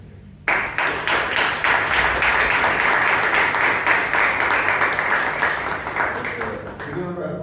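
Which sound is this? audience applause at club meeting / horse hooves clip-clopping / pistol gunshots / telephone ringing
audience applause at club meeting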